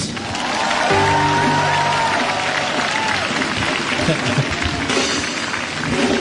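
A worshipping congregation at a healing service claps together in sustained, dense applause, loud and filling the room, with scattered voices and a sung or sustained tone underneath.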